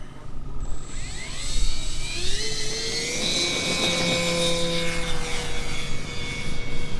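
A Dynam Tucano RC model airplane takes off, its small electric motor whining steadily and rising sharply in pitch as it throttles up, nearby and continuous over light wind noise.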